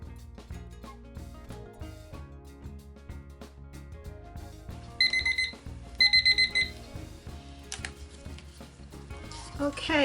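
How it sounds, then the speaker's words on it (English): A timer alarm sounds after resin mixing for a floral coaster craft, two short bursts of rapid high beeping ringing out over soft background music, fairly quiet overall. "Our timer is set for 5 minutes."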